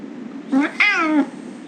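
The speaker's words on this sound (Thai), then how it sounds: "เดี๋ยวเราเลี้ยงแมวก่อนแล้วกัน" A cat meows twice in a horror video game, the second call longer and rising, close and clear over quiet background hum.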